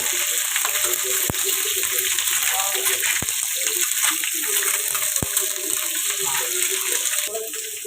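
Eggs sautéing in a hot pan give a steady, loud sizzle and frying hiss throughout, broken by a few sharp clicks of a utensil against the pan. Faint background voices can be heard.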